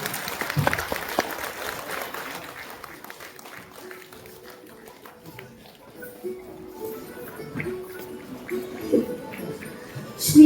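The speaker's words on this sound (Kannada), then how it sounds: "ಜೋರಾದ ಚಪ್ಪಾಳೆಯೊಂದಿಗೆ ಸ್ವಾಗತಿಸೋಣ" An audience claps loudly to welcome guests at a community student award and Kannada Rajyotsava ceremony in Belagavi; the dense applause fades after a couple of seconds into quieter room sound with faint voices.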